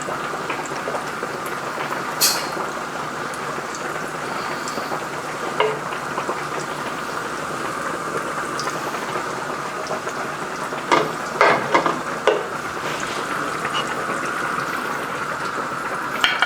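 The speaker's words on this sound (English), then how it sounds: "First, add in some olive oil. Then, add in butter." Olive oil and butter heat together in a pan, giving a soft, continuous bubbling sizzle, with a handful of sharper pops and spits clustered toward the end.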